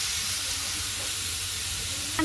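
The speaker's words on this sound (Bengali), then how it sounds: "আমি এখন আবার একটু নাড়াচাড়া দিচ্ছি।" Radish with shrimp frying in a pan, a constant hissing sizzle with faint stirring underneath, close and even throughout.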